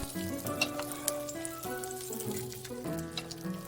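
Skewered Korean jeon frying in a pan with egg batter, making a faint continuous sizzle. Clinks and faint background music sit over it, with no talking.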